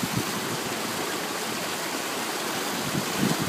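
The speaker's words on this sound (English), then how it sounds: "It's kind of pretty how the water goes over that spillway." Water pours steadily over the spillway of a beaver dam, a continuous close rushing wash like a small stream or waterfall, broadband and even throughout with no talk.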